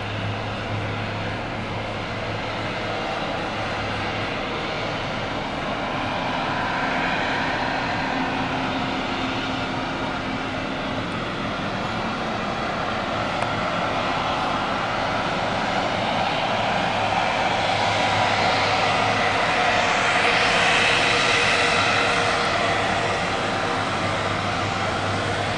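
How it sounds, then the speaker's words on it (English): A small airplane's engine roars at full throttle during the takeoff run, a loud, continuous drone that holds steady and builds slightly toward the end. "throttle all the way in for takeoff."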